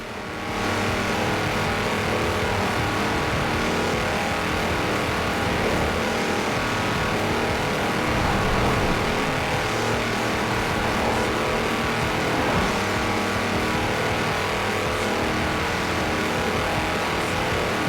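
A tractor on 54-inch mud tyres races at high speed in Forza Horizon 4, its engine a loud, continuous roar that holds steady throughout with no talk over it.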